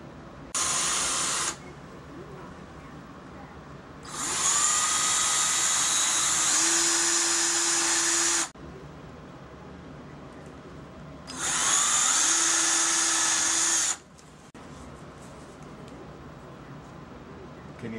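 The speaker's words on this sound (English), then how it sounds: "We'll screw a hole in right there and right over" A power drill drives screws into holes while making a tier, in three separate loud whirring bursts: a short one near the start, then two longer runs with a steady rising whine. Quiet room noise fills the gaps between them.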